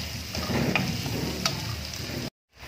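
Vegetables stirred and fried in butter in a pan give off a steady close sizzle with occasional scraping clicks from stirring. The sound cuts out abruptly near the end.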